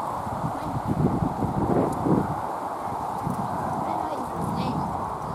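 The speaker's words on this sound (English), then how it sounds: "there's a horse in the open stable" Horse hooves shuffle and clop on a hard stable floor at a stud farm against a steady windy background, with faint rustling and no clear talking.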